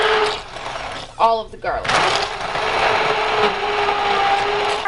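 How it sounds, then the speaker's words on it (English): An immersion blender purees garlic soup with broth, a steady whirring motor drone after a brief pause, with a person speaking over it at the start. "I have my immersion blender. Puree all very carefully."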